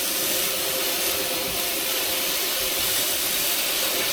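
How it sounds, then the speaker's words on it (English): Steady loud rushing hiss of a sandblaster fed by an 80 gallon air compressor, continuous broadband air blast running without pause, close and with no talking. "So now we're gonna try to sandblast this to see if it works."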